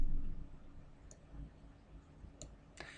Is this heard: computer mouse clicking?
yes